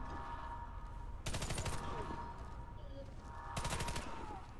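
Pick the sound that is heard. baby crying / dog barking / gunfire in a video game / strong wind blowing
gunfire in a video game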